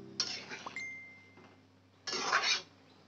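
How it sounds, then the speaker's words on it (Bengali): A spoon scrapes and clinks around a pot of mung dal and papaya curry with potato, followed by a brief pause and then a lid clattering down onto the pot, close and fairly quiet. "এবার পুরো জিনিসটাকে ভালো করে আমি একবার ঘেঁটে দিয়ে এবার চাপা দিয়ে এটাকে পুরো সেদ্ধ হতে দেবো"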